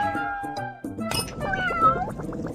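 A cartoon cat meows in a children's cooking scene, with several bright, wavering meows after a short run of tinkling clinks, close and clear.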